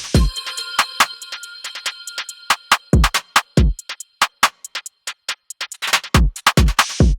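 A drum kit compressed with a Shadow Hills compressor plays a busy pattern, punchy kicks and snares with cymbals ringing and sustaining more densely between hits.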